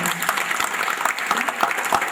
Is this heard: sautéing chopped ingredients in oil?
no